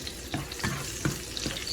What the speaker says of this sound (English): stir it well, and make sure every side of the garlic is fried